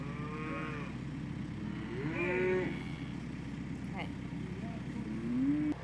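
Cattle mooing on an Alaska farm, several drawn-out bellowing calls spread across the stretch, moderately near, over a constant low rumble of engine or wind noise.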